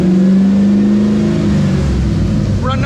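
A Chevrolet Colorado truck fitted with an LS engine runs hard on a dyno, a loud, close engine roar that holds a high pitch and then winds down near the end.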